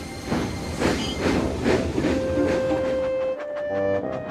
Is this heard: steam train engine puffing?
yes